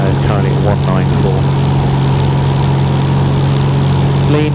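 Light aircraft piston engine running steadily at about 2000 RPM, a loud continuous propeller drone filling the cabin, with a voice speaking over it.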